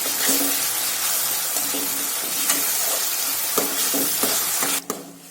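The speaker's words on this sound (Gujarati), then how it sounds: "બધું જ આ રીતે સારી રીતે સાંતળશું જ્યાં સુધી આપણા ટામેટા એકદમ સરસ સોફ્ટ ન થાય ત્યાં સુધી" Tomatoes and onions sauté in a pan for paneer bhurji, a continuous close sizzle broken by repeated scraping stirs of the spoon, then the sound drops away abruptly near the end.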